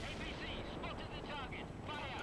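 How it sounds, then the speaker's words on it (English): Helicopter destroyed in World in Conflict during a rescue mission, a dense rumbling burst of explosive gunfire and blasts filling the whole moment, loud and continuous with crackling debris. "Oh, the helicopter just got absolutely wrecked"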